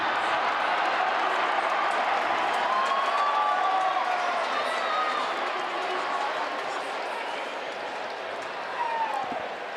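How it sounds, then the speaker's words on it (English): A large college football crowd of Colorado Buffaloes fans at Invesco Field reacts to a replay on the big screen, giving a steady, loud roar of cheering and murmuring that fills the whole stretch and fades slightly toward the end. "Reaction in the stadium is the Colorado Buff crowd watching the replay on the big screen here at beautiful Invesco Field"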